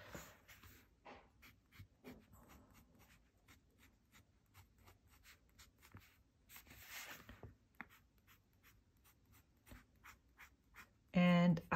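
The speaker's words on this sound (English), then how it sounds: "The zoom nib writes more broadly when it's at a lower writing angle, and more fine when it is at a higher writing angle." A fountain pen with a zoom nib scratching across paper in short, repeated strokes, close and quiet, with a steady rhythm of soft scraping and a louder bump at the very end.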